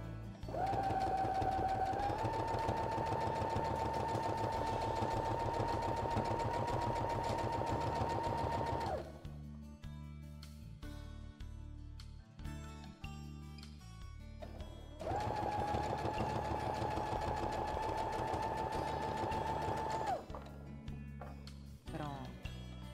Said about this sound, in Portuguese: eu vou costurar com costura reta